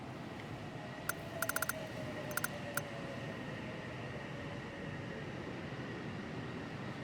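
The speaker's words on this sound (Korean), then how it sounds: "0번선에 열차가 통과합니다." A train passing through a station on platform 0, a steady low rumble and rolling roar with a few sharp metallic clicks early on, sustained throughout without voices.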